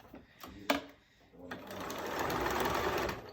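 A sewing machine stitches a quilted placemat in a steady, close whirring run that builds over the last two seconds, after a few short clicks and handling noises.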